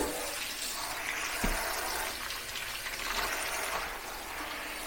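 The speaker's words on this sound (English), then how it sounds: "add warm water." Warm water gushes steadily into a clean bucket while mixing car wash and wax solution, a continuous rushing, splashing flow with a brief knock partway through, close and fairly loud.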